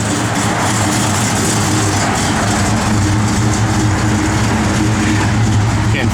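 A 1973 Plymouth Duster's engine runs steadily with a deep, continuous low rumble and idle throb, loud and close throughout, with no pauses.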